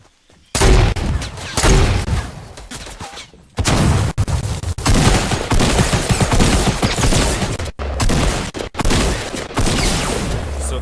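Loud, dense bursts of gunfire from the video game Fortnite come in rapid volleys with brief gaps of silence between them, the shots close and harsh, with no voices.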